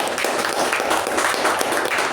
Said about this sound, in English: So let us recognize this with a good round of